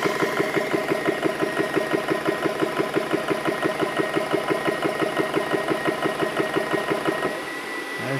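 An air compressor fills a PCP air rifle, running loud and close with a steady fast pulsing chug for about seven seconds before it cuts to a lower hum.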